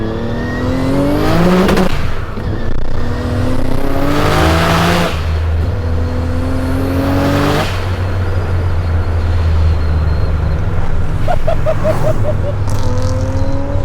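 A 1000-horsepower twin-turbo Nissan 300ZX pulls hard in second gear from about 4,000 rpm, engine pitch climbing in repeated rising sweeps with breaks between pulls, loud and close, with turbo whistle and a deep low drone underneath.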